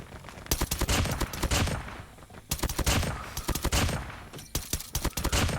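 An M1 Garand rifle fires in Call of Duty Mobile in three bursts of rapid, loud shots, each a tight string of cracks separated by brief pauses.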